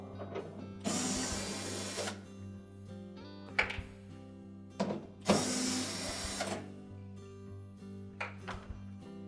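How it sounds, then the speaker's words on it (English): A power screwdriver runs in two long whirring bursts while removing screws from the evaporator cover of a Whirlpool refrigerator, with small clunks and clicks in between, close and fairly loud. "we'll remove the 2 screws that secure the evaporator cover to the back wall"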